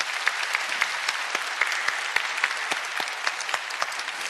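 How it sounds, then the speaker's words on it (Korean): A church congregation applauds during a Sunday worship service, with dense, even clapping that carries on steadily throughout. "우리 하나님께 감사하는 마음으로 우리 영광의 박수 올려드립니다."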